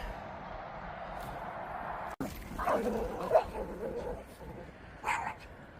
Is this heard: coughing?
no